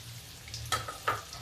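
Mung dal and potato pakoras frying in oil in a kadai give a soft, low background sizzle, with a couple of brief louder clinks or stirring sounds close by.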